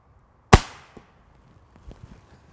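Swedish pistol firing an arrow: one sharp, loud crack near the start that decays quickly, followed by a few faint soft clicks and knocks.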